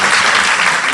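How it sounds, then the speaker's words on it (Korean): Dense, steady applause from a live audience at a Korean citizens' gathering, filling the whole second with continuous loud clapping and no pauses. "박수 한번 주시고요"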